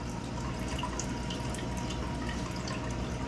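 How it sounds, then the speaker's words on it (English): Water is drained from a shrimp tank, with trickling and dripping water over a steady low hum, moderately quiet and continuous, with no talking. "So we're going to take out some more water here."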